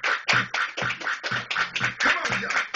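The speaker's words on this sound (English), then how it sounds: "Everybody clap your hands." A crowd claps hands in a steady rhythm to a dance song, quick regular claps with low beat thumps underneath, loud and close throughout.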